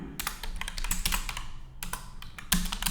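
Code being typed on a computer keyboard, fast continuous clacking of keys with irregular rhythm and a few heavier strokes, close and clear with no talking.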